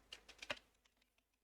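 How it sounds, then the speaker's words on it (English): Computer keyboard typing, a short run of faint, quick key clicks in an uneven patter, louder at first and then tapering off, with no talk. "Yeah, typing."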